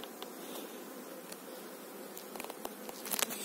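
Local honey bees fly around a hive in an apiary, a dense, steady buzzing drone of many insects close by, with individual bees zipping past the microphone now and then.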